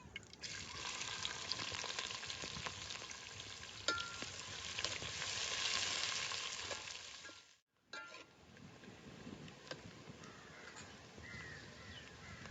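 Onions and whole spices frying in hot oil for a village-style chicken dish, a steady loud sizzle with stirring scrapes that briefly cuts out near the middle, then resumes softer.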